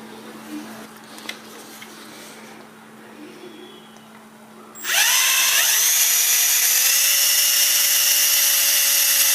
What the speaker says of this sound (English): I'm going to use a 5/32 drill bit to go through the center of this